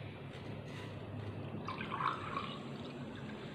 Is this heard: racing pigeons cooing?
no